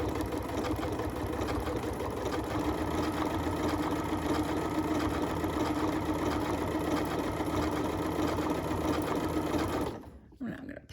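A Janome MC9450 sewing machine stitching applique runs in a steady, even whir close by for about ten seconds, then stops abruptly, with a short quiet tail and a small bump at the end.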